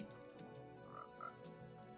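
A frog croaks twice in Minecraft with the Horror Craft texture pack, short mid-pitched calls over a steady busy game backdrop, with no talking.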